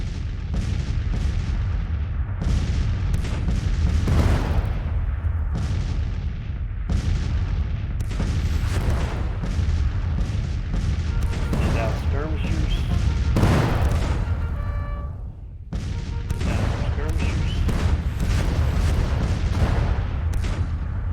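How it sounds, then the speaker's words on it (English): Cannon artillery in the American Civil War strategy game Grand Tactician, set in 1863 with Confederate forces, booms out in a dense run of repeated heavy blasts. The shots overlap and rumble loudly throughout, with no talk over them. "I'm going to really have to depend upon my cannons here."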